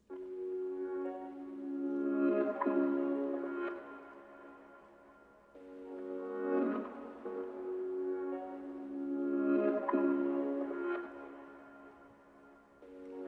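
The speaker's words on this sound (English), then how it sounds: "the last thing I added was just another arcade for some more ear candy." Sustained synth pad textures added as ambient ear candy in an ambient slayworld beat, swelling in three slow, loud waves of layered harmonic tones with shimmering upper detail and no voices.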